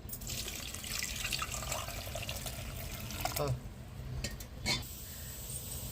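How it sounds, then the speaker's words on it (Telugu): Water splashes and pours into a pressure cooker holding raw mango, salt and turmeric for rasam, for several seconds, with a few clinks and drips toward the end. "నీళ్ళు అయితే వేసుకుందాము."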